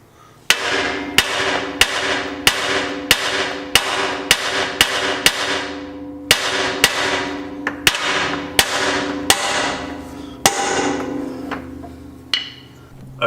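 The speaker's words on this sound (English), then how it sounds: "get your trusty 3-pound hammer, and we'll start whacking the bottom of this thing" A 3-pound hammer strikes the steering knuckle of a Nissan Xterra again and again to pop the lower ball joint loose, loud ringing metal blows in a fast, steady series with a few brief pauses.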